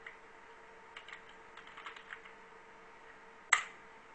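Quiet typing on a computer keyboard enters a design name in Proteus circuit design software, a short run of soft irregular key taps followed by one sharper, louder keystroke near the end.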